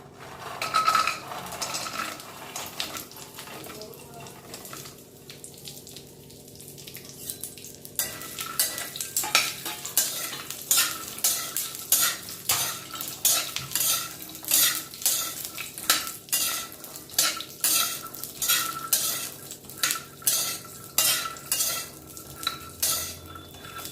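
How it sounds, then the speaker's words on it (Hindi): Walnuts roast in a little ghee in a pan over a very low flame, a soft sizzle beneath repeated close scraping and stirring strokes of a utensil against the pan in a steady rhythm. "बहुत थोड़ा सा घी डालेंगे। अब हम अखरोट को सेक लेते हैं।"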